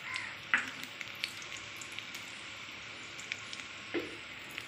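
Slit green chillies hit hot oil with a short sizzle and crackle, followed by a low, steady frying hiss and a few faint clicks and taps, quiet and close.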